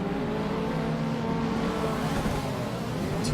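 A Nissan 240 drift car's engine revs hard on a track, a dense, loud, sustained roar with shifting pitch, heard up close with no talking.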